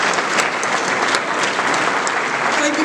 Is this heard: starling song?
no